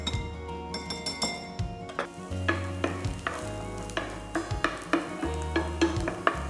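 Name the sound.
onions frying in a pan until translucent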